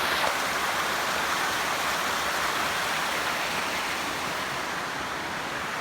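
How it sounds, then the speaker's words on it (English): Steady rain falling outdoors near a trail on a wet day in Montana, a constant broadband hiss that stays loud and even throughout with no voices. "It's starting to rain again."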